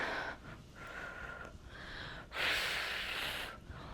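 Breathing during a standing home workout, a long audible breath followed by a strong, forceful exhale that hisses loudly up close for about a second.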